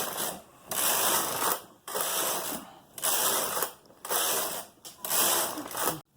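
A Brother or Superba knitting machine carriage runs across a row of yarn, each pass a loud mechanical whirring rattle lasting about a second, repeated five times with short pauses between.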